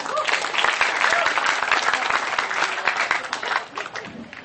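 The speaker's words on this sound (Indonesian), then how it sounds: "Raja Banggai, tepuk tangan." Audience applause at a Kenduri Cinta gathering in March 2009, a dense, steady wash of many hands clapping that holds loud and continuous throughout, with faint voices mixed underneath.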